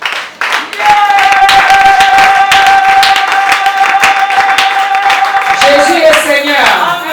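A church congregation claps and cheers for Jesus, loud continuous applause with rhythmic hand claps, a sustained voice and shouts carrying through, close and energetic.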